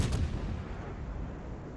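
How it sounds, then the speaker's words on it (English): A warship fires an armor-piercing shell salvo in World of Warships, one loud deep boom up front that rolls off into a long fading rumble, with no voices. "I'm going to stick with the AP and just keep firing salvo after salvo into his side."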